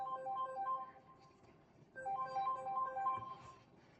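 A phone ringtone plays during a lesson on surveying reference points and slope stakes, a tinkling electronic melody heard twice in short bursts separated by a brief pause, fairly faint in a quiet room.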